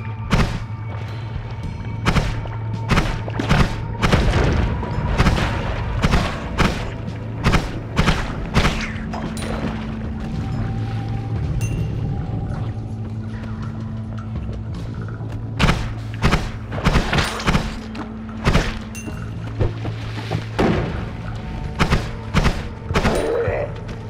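Fire bolt spells burst repeatedly in the video game Noita, a string of sharp thumps and pops over a looping low musical drone, with occasional quieter talk.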